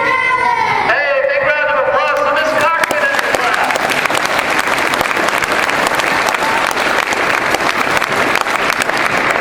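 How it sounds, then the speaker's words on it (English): An audience applauds a fourth grade class performance of a school show, loud dense clapping sustained throughout, with brief voices and musical tones at the very start before the applause takes over. "big round of applause for Miss Cochran and the class"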